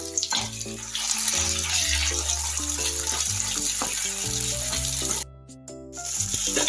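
Paste of green chili, ginger and garlic frying in hot oil: a steady, bright sizzle running beneath background music, broken by a short gap near the end.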